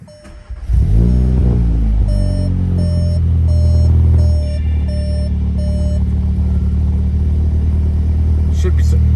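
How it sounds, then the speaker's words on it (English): A Volkswagen GTI engine cranks and catches, then settles into a loud, steady idle close by, with a repeating electronic chime beeping over the engine for several seconds. "let's go ahead and start it"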